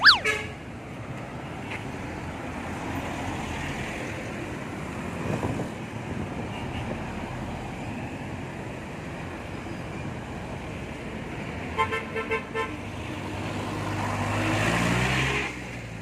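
Street traffic rumbles steadily as a jeepney approaches, with engines droning under a few short horn toots near the end.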